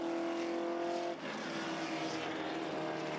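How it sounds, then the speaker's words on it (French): Porsche 908 race car at the Le Mans Classic, passing along the Bugatti circuit section near Maison Blanche; a loud, steady engine roar dominates, with a brief dip as the car goes by, then continuous racing engine noise. "Porsche 908 qui a mené de bout en bout, en train de boucler son 11e tour de course"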